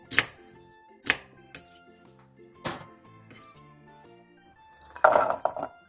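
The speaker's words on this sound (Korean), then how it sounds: "배 1개와 양파 1개를 믹서기에 갈기 좋은 크기로 잘라주세요." A knife chops a pear and an onion on a cutting board in a few sharp, separate knocks spaced apart, then a quick cluster of cuts at the end, with background music underneath.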